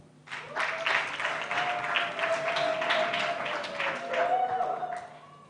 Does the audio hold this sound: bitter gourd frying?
no